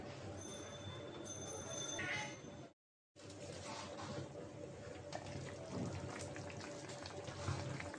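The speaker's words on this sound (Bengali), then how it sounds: "মাছটা বলক এসেছে" Lotte fish curry heats in a covered pot on a stove, giving a faint, steady bubbling and sizzling hiss with a short break in the middle, low and close.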